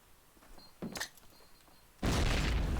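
A grenade blast in Call of Duty: United Offensive, heard as a loud, broad boom that erupts suddenly near the end and holds through the rest of the clip, preceded by faint scattered game noises.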